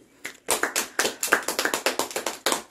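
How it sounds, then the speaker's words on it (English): Children clap their hands in a Simon Says game on Christmas Day, a quick run of about twenty crisp, close claps after a short pause, loud and alone with no talk. "Simon say clap."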